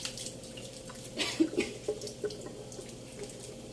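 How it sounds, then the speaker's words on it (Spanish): Rinse water draining from cooked spaghetti in a strainer, a soft continuous trickle with a few drips and splashes in the middle, close and fairly quiet, no talking. "Vamos a dejar que se escurra bien el agua."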